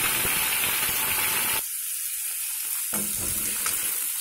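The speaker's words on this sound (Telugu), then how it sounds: "ఇలా వేయించి ప్లేట్లో పెట్టుకుందాం. అన్ని ముక్కలు కూడా ఇలాగే వేయించుకోవాలి." Pieces of Musa fish frying in a pan, a loud close sizzle that cuts off abruptly and then returns more quietly, with steady hiss and crackle.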